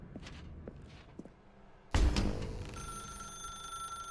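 A telephone rings in The Stanley Parable: Ultra Deluxe, a sudden loud bell-like electronic trill that cuts in after a few soft footsteps and sustains with bright ringing overtones.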